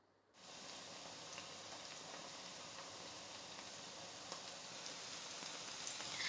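Whole red chillies and spices frying in oil for chicken korma start sizzling after a moment of silence, then keep up a soft, even crackle that builds slightly toward the end.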